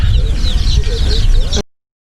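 Baby chicks chirp and peep constantly in a busy, close chorus of high cheeps over a low background rumble, ending abruptly.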